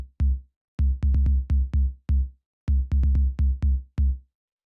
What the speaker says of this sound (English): So this is your standard sort of 808 style tom.